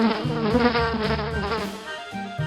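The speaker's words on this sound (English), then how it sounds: "Fly." A housefly buzzes steadily near the listener, a wavering droning hum that continues for a couple of seconds with slight pulsing in pitch.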